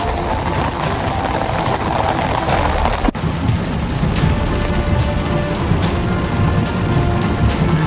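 Heavy rain pours down hard and steadily during a thunderstorm at a fishing spot, a loud dense roar of drops drumming on nearby surfaces that continues unbroken with no voices.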